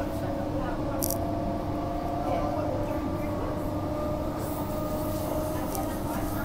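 A Perth suburban train rolls between stations near Maylands, heard from inside as a steady, continuous rumble and hum throughout, with faint voices in the carriage.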